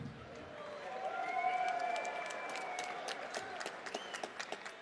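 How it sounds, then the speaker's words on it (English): Crowd applause and cheering at an MMA event for both fighters after a TKO finish, a swelling wash of clapping with whoops and a loud voice over the arena noise, easing toward the end. "How about a round of applause for both of our fighters?"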